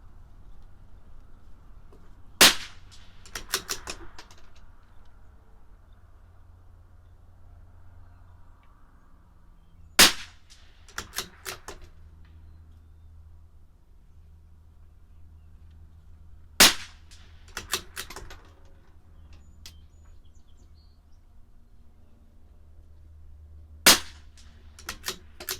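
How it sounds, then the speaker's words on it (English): A CZ 457 LRP .22 rimfire rifle fires Eley Match ammunition outdoors, four sharp loud cracks spaced several seconds apart, each followed by faint clicking of the bolt being cycled, over a quiet low hum. "5 more shots."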